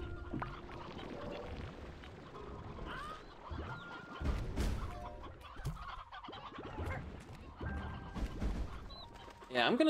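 Chickens in Slime Rancher 2 cluck and squawk over game music, a dense, uneven stream of bird calls with a louder burst near the middle and again at the end.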